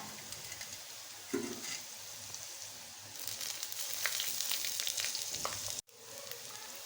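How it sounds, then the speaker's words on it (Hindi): Ginger and garlic paste sizzling in hot oil with half-browned onions, a steady frying hiss with occasional stirring scrapes, close and moderately loud with no talking. "ये प्याज हाफ ब्राउन हो गया तो अब हम इसमें अदरक का पेस्ट और लहसुन का पेस्ट डालेंगे।"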